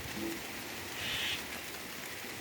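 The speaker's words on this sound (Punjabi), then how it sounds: "ਬਾਰਿਸ਼ ਸ਼ੁਰੂ ਹੋ ਗਈ ਹੈ" Soft, steady rain hisses evenly over a garden throughout, a faint wash of falling drops with no voices.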